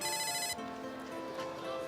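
A mobile phone rings loudly and steadily, its repeating electronic ringtone filling the first half second before giving way to a softer continuing tone with room sound.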